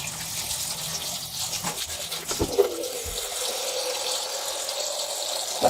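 Soaked, swollen chickpeas are rinsed under running tap water in a kitchen sink. A steady close gush of water is broken by brief splashes and clatter, with no talking.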